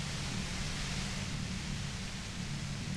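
Violent, overwhelming white noise roars steadily near a compressor in the video game Disco Elysium, a dense, constant hiss with a heavy low rumble beneath, loud and unbroken throughout with no voices.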